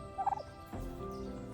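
A large male meat turkey gobbles close by, a short burst of rapid warbling notes, followed by a steadier low rumble of background noise.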